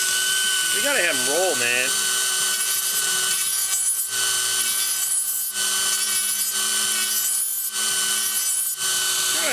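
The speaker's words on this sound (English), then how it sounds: "let me get my Dremel here and do a little tweaking" A Dremel rotary tool grinds on a wheel during a wheel swap on a 1934 Ford three-window coupe, a loud high whine in repeated bursts, with someone speaking briefly near the start.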